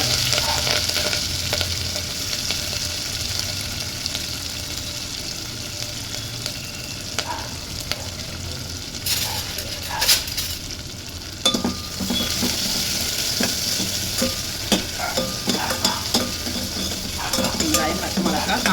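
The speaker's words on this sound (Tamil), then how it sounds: "கடுகு, ஜீரகம், எண்ணெய் விட்டு நம்ம இதை இந்த மாதிரி பண்ணிக்கிட்டோம். ஒரு தாளிப்பு கொடுத்தாச்சு." Mustard seeds, cumin, dried red chillies, green chillies and onion sizzle steadily in hot oil for a South Indian tempering, with a spoon stirring and scraping the pan now and then. The frying stays close and continuous throughout.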